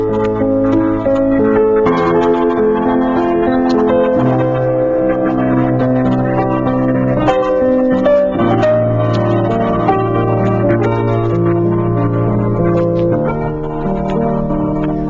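Orchestral passage by Wagner performed with its original modulations, sustained harmonies shifting through changing keys, full and continuous with no talking.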